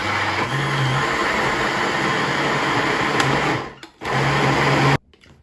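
A blender purees pizza sauce for a Cajun pizza, a loud steady whirring drone that dips twice and cuts off abruptly near the end.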